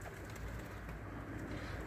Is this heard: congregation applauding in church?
no